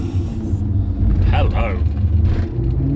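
A Maserati 4.8 litre V8 rumbles close by as the car pulls away, its engine note rising briefly mid-clip while a voice exclaims over the steady low drone.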